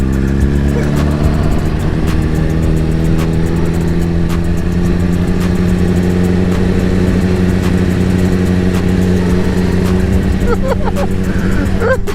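A Yamaha Zuma scooter that had crashed before hums steadily at close range through a lap, a constant mid-pitched engine drone with rising tones, while people talk over it.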